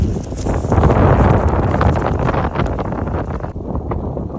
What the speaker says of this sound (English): wind this morning is pretty intense